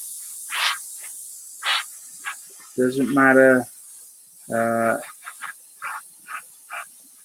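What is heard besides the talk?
airbrush spraying paint on Airfix Spitfire model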